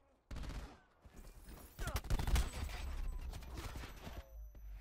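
Dual pistols fire in a Call of Duty Black Ops 4 team deathmatch, a fast burst of loud close gunshots mixed with game effects and excited talking from players.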